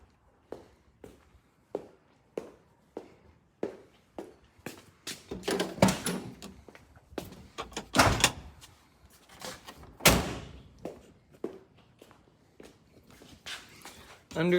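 The doors of a 1988 Ford Ranger pickup are worked at close range, giving several heavy thumps and latch clunks amid footsteps and scattered clicks, with a voice talking over parts of it.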